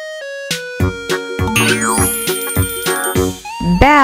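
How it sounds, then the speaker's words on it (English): A bell rings in a series of clear, evenly spaced chimes over a light musical accompaniment, loud and close, ending with a rising flourish and no voices. "B for bell."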